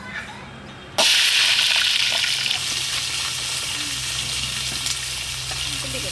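Whole spices, cinnamon, cardamom, fennel and cumin, drop into hot oil in a pan for fish curry with a sudden loud burst of sizzling that settles into a steady crackling fry close by.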